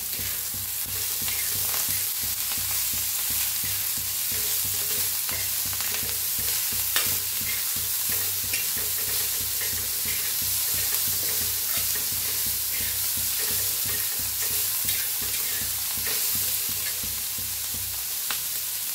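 Chili thecha with peanuts, salt and coriander is roasted and stirred in a pan, giving a steady close sizzle with constant fast scraping and no voices.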